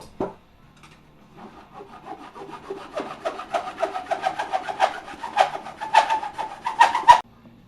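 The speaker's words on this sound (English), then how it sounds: "Alright, so next I'm going to cut off the handle. Let's use a hacksaw." A hacksaw cuts off the handle of a homemade Endor blaster prop, making rhythmic rasping strokes that start soft and grow louder and quicker over several seconds before stopping abruptly.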